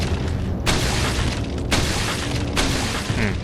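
Deep booming grenade blasts go off in a loud, noisy battle scene in Resident Evil 4, with about three sharp bursts standing out over constant rumbling.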